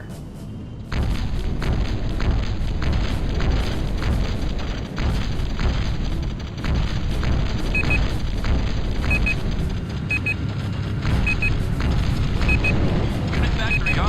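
A gun tower fires in the video game Battlezone '98, heavy booming shots repeating steadily through a dense battle din, with game voices and a person talking over it.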